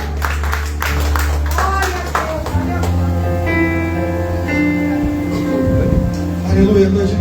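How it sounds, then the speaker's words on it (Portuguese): A church congregation applauds over loud sustained music at a praise and worship service, with a voice calling out above the clapping. "Aplauda o nome dele essa noite."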